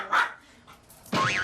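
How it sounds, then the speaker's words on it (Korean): A dog named Mongi barking fiercely at a visitor indoors, two sharp, loud barks separated by a short pause, the second more drawn-out and whining, with no talking. "몽이 녀석 더욱 격렬히 짖어대는데요"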